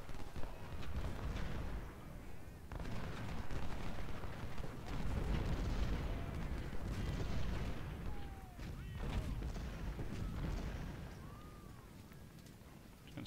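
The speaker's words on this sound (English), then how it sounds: "The artillery is going to do most of the work here." Artillery cannon fire in a Civil War strategy game, a dense run of booming blasts and rumbling explosions that keeps up steadily across the whole stretch, with faint battlefield noise mixed in.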